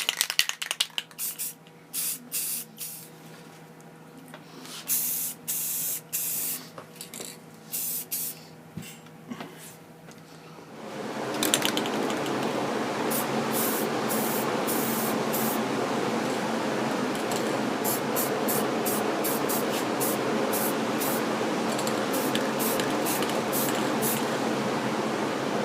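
Lacquer sprayed onto a wooden bandsaw scoop, first as short separate bursts and then as one long steady hiss that fills the second half, close and fairly loud.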